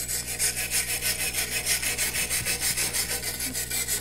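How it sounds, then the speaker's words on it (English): A stainless steel wire brush scrubs rust off metal in quick, steady back-and-forth strokes, a close, raspy scratching rhythm that runs continuously without speech. "We're gonna take this wire brush. Let's clean this off."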